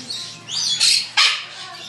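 Birds in an indoor bird jungle give a few sharp, high squawks and chirps close by, with two loud bursts standing out against a quiet background.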